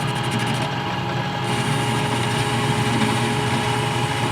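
Metal lathe spinning steady at moderate RPM while a parting tool is turned, giving a continuous, loud motorized hum with a faint high whine, alone with no talk.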